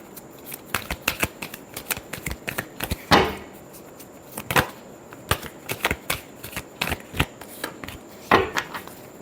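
Tarot cards being shuffled by hand, a quick series of crisp riffling slaps and flicks in irregular bursts, close and clear with no talk.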